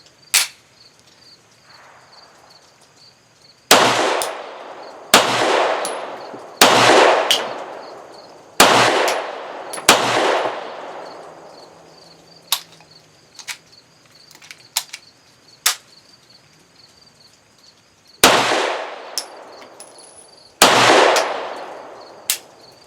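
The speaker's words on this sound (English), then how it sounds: "let's see how they shoot" An old Walther P1 P38 pistol chambered in 9mm fires single shots at an irregular pace, about eight loud, sharp reports with ringing decays, heard close and with no talk.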